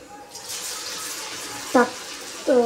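Sabudana vadas dropped into hot oil over low gas, a close, steady frying sizzle with a voice briefly speaking over it near the end.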